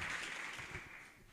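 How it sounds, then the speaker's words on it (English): Audience applause rises at a World Day of Safety and Health at Work 2024 event, a steady wash of clapping that gradually tapers off over about a second. "A round of applause for Zilpa."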